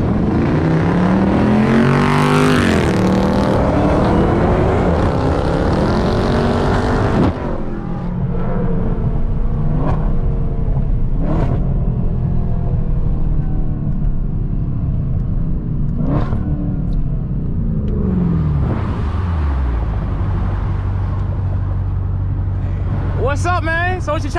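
A 2020 Jeep SRT's engine runs loud and close from inside the cabin, a steady deep rumble with several sharp rev spikes and a later rising rev, while someone talks over it.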